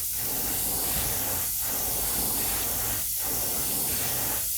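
Steady airbrush hiss spraying Badger paint at low pressure onto a perch crankbait lure, a continuous close broadband spray with a few brief pauses between passes.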